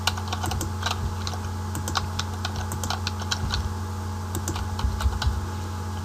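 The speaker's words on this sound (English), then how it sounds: "Okay, and I enter some names there." Fingers type on a computer keyboard, entering names into a form with a quick, uneven run of close clicking keystrokes over a low steady hum.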